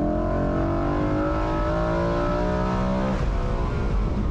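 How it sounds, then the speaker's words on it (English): A 2008 BMW M3 E93 engine revs hard on a mountain road, rising in a steady loud climb for about three seconds before dropping off into a lower drone, with no speech over it. "the best engine note in the world"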